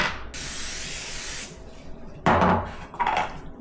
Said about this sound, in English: Grease the pan.